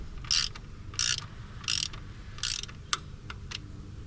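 Torque wrench ratcheting on an NB Miata during a valve cover gasket replacement: a close series of quick clicking ratchet strokes in an uneven rhythm, with several longer pulls followed by a few shorter clicks.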